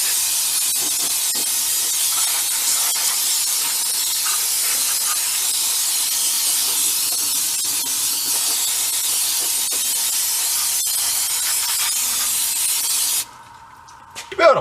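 A water spray rinses something while work goes on on a VW Thing, a steady, loud, even hiss lasting about thirteen seconds before it cuts off abruptly and leaves a brief quiet.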